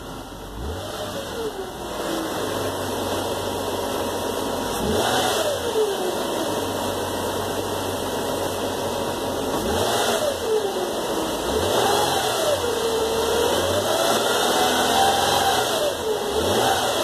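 A 2007 Nissan Maxima engine revs up and down in repeated swells, with a wavering whine rising and falling over the steady mid-pitched engine drone, close and fairly loud throughout.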